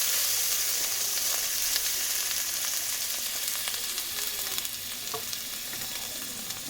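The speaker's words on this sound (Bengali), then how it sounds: "দিয়ে একটু ভাজা ভাজা করে নেব পেঁয়াজটা।" Onion frying in oil in a wok with nigella seeds, green chili and ginger paste, giving a steady, close, continuous sizzle with occasional crackles and stirring scrapes throughout.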